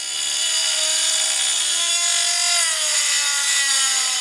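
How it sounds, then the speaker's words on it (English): A power tool steadily cuts the metal flanges of a camper fireplace chimney, giving a loud, continuous, even whine with no pauses. "these flanges, we're trimming them down so that this can sit inside the top of the chimney"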